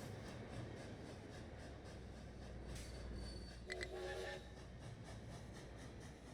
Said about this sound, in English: our steam train here has already got ready to head off